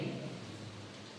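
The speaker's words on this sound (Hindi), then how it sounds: "इतने पानी बूंद बरस रहा है, यार ये बारिश का माहौल" Steady rain falls in a continuous, even hiss of drops on surfaces during a wet-season downpour, fairly faint and unbroken, with no voices.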